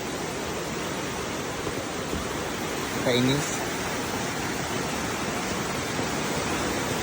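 Strong floodwater rushing past a farm spillway, a steady loud broadband roar throughout, with a brief voice speaking over it midway.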